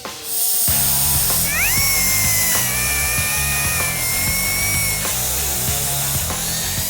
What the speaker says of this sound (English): I'm grinding them off along with any useless tabs